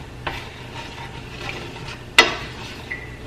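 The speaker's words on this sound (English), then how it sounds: "So we're gonna mix this all together." A spoon scrapes and stirs a creamy shrimp fettuccine Alfredo mixture with half-and-half in a pan, giving soft swishing and scraping, two sharp clinks against the cookware, and a faint sizzle underneath.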